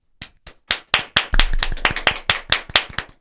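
A small group claps for Sydnee in close, loud, distinct hand claps that start sparse, build into a quick uneven burst, then keep going as individual sharp slaps.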